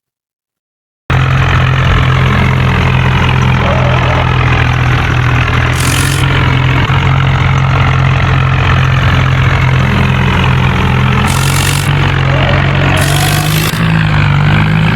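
A new tractor engine runs at a steady idle close by, a loud, even low rumble after a second of silence. Brief hissy bursts recur over the constant drone, and no one talks.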